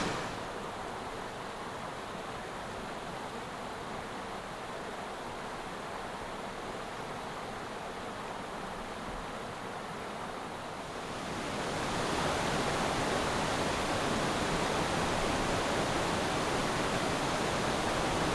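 Creek water flows steadily and loudly as a broad continuous rush, close by, swelling stronger in the last third, with no talking.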